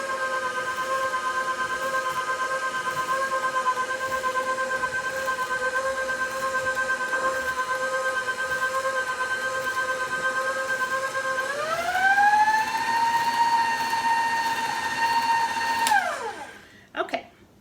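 A stand mixer with a paddle attachment beats cake batter for a Mississippi mud cake, its motor whine steady and near before rising in pitch and stopping with a clunk.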